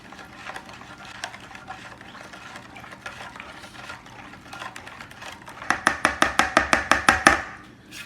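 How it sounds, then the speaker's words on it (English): A marinade with a bay leaf being stirred in a bowl, starting with soft scattered scrapes and ending in a run of about a dozen quick, rhythmic clacking strokes of the utensil against the bowl. "Now we'll give it a good stir."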